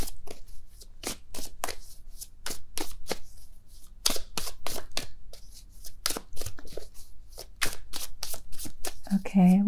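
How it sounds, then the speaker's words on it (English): Witch's Tarot cards being shuffled by hand, a steady run of soft riffling bursts close up, with a brief voice near the end. "I'm going to pull few cards from the Witch's Tarot"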